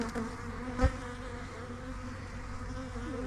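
Bees buzz in a dense, steady drone around a hive, close and continuous, with a brief louder pass near the start.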